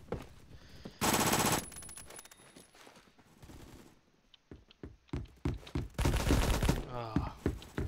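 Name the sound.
gunfire in the video game Phantom Forces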